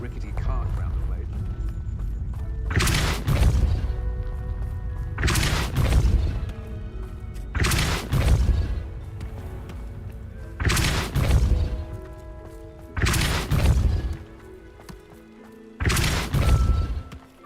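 Depulso force spell striking in Hogwarts Legacy: six heavy, booming impacts spaced every two seconds or so, each a sharp broadband thump over ongoing game ambience, with a voice speaking in between.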